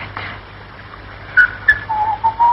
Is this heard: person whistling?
yes